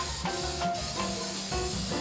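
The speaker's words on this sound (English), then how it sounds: "I'm gonna go ahead and just spray that on there." Short hissing bursts of an aerosol spray can onto a bare-metal car body, several quick sprays in a row, close and fairly loud.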